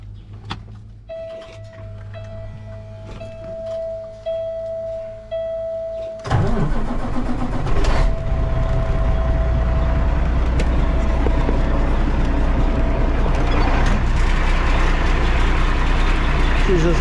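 A black Kenworth truck with a Cummins engine cranks over and fires up, then settles into a loud, deep, steady diesel idle. A quieter cab hum and a tone come first, and a voice talks over the engine.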